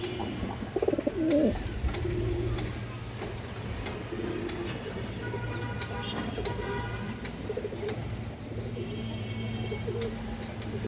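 Pigeons in a Bangladeshi pigeon market, including Indian high-flyer and Kaldom breeds, cooing repeatedly in low, soft, throaty bursts over a steady background hum, with occasional chirps from other birds and no one speaking.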